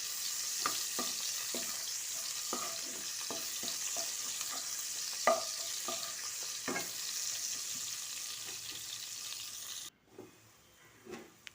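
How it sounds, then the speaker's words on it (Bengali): Panch phoron, bay leaf and onion fry in hot oil with a steady, close sizzle. Repeated stirring scrapes and clicks sound over it until the sizzle cuts off sharply near the end, leaving a few faint knocks. "একটু তেলের মধ্যে দিয়ে দেব 5 ফোড়ন, একটু তেজপাতা আর পেঁয়াজ। এগুলো ভেজে নেব লাল লাল করে।"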